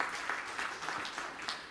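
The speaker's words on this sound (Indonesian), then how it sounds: "Tepuk tangan yang meriah untuk kemuliaan nama Tuhan." A church congregation at an Indonesian sermon breaks into applause, a soft, distant wash of many hands clapping steadily with slight rises and falls, faint in level and continuous throughout.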